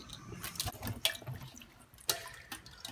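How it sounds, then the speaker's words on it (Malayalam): Crab washed under running water, a faint trickle with soft splashes and a few brief drips, quiet and close. "ആദ്യം നന്നായിട്ട് കഴുകിയിടുക നല്ല വെള്ളത്തിൽ നന്നായിട്ട് കഴുകിയെടുത്തതിന് ശേഷം"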